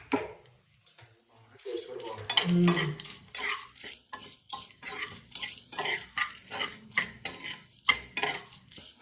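Cumin seeds fry in a pan while a spoon stirs and scrapes against the metal in repeated rhythmic strokes, a soft sizzle underneath, with a voice talking briefly near the start.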